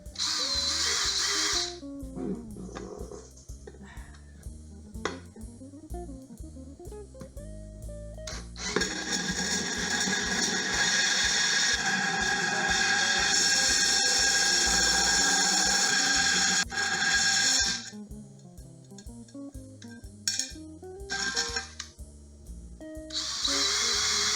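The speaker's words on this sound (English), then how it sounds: "I need to drill a hole" A power drill whirs loudly and steadily for several seconds, with shorter bursts of drilling and mechanical clatter before and after.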